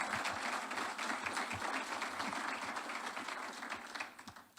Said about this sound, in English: round of applause for Jimmy Doolittle III.